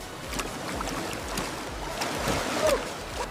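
Wave pool water at a waterpark sloshes and splashes close by in uneven surges, with a steady watery rush underneath and brief brighter splashes rising over it.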